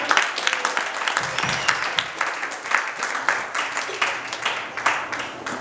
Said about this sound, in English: Clap your hands and give God.